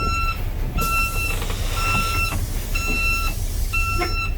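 Repeated electronic warning beeps from a car, steady high tones sounding in evenly spaced bursts with short gaps, heard close up inside the vehicle in cold weather, alone without talk.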